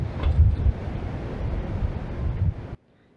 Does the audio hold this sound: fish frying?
no